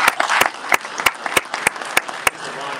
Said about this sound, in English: I just want to give her one more round of applause